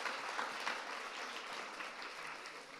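Audience at a Nashville mayoral forum on housing claps steadily, a dense wash of applause from a moderately sized crowd, holding even and fairly distant with no talk over it.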